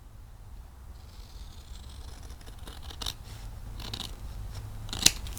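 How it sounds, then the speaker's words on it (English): Scissors snip through a paper envelope at close range, several short crisp cuts building toward one sharp final snip, alone with no talking. "So trimming that one up."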